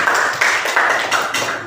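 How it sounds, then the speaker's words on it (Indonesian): Students in a classroom clap for a presenting group, a short burst of close, sharp hand claps falling into a rough, evenly spaced beat. "tepuk tangan untuk kelompok 3."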